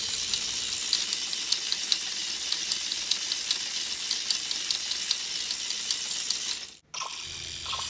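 RC semi truck with a four-speed DLX gearbox and locking transaxle, spinning in fourth gear: a steady high-pitched mechanical whir and rattle with faint rhythmic ticking, close and continuous before cutting out briefly near the end.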